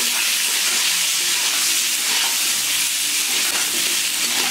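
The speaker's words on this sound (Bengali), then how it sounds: "তেলে আমি আলুগুলোকে ভেজে নিচ্ছি।" Potatoes fry in hot oil for a village-style Bengali shol fish curry, giving a steady, close sizzling hiss with no talk over it.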